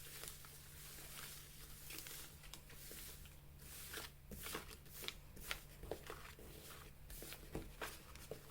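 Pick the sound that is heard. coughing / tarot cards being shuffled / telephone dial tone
tarot cards being shuffled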